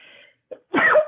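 A brief breathy intake and catch, then one forceful sneeze bursting out close to the microphone.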